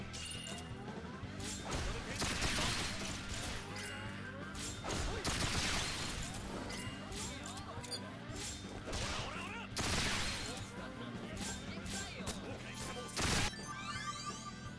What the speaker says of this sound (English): Shoot him, Vacheron.